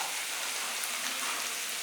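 Steady, dense sizzling and crackling of slit green chillies frying in hot oil for rava khichadi, continuous and close, with no voices.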